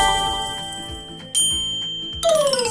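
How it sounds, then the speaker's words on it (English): A bell rings with a sustained metallic tone, then gives two sharper strikes that ring out and decay, loud and close with no voices. "Bell."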